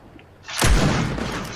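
A single heavy gunshot blast in the video game Fortnite bursts in after a quiet moment, its booming echo lingering and rumbling on.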